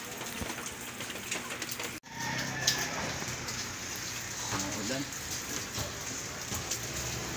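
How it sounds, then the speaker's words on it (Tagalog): Light rain pattering steadily around a Motorstar Easyride 150 motorcycle, a continuous close hiss with a brief dropout early on, occasional faint voices and a distant low rumble underneath. "Wala na, kaunti na lang yung ulan eh."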